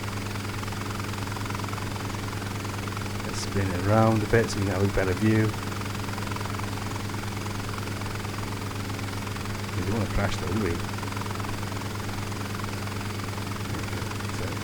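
Bell 47 helicopter in a Flight Simulator game, its steady low rotor and engine drone running throughout beneath a voice talking in two bursts.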